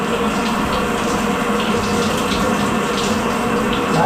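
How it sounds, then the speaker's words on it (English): Steady broadband rush of shower water runs without a break while a pet parrot bathes beneath it, loud and continuous with no talking. "I just want to sit here and watch the bird shower."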